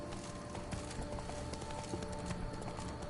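Horse hooves clip-clopping at a steady galloping rhythm in The Witcher 3, continuous and close under a busy game soundscape with background music.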